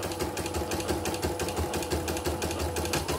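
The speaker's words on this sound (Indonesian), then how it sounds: "setelah ditutup cover kita tes kembali, mesinnya lancar, tidak ada kendala" An embroidery machine runs during a test after its cover is closed and a part replaced, giving a steady, fast mechanical stitching chatter with a continuous hum, close and even throughout with no talk.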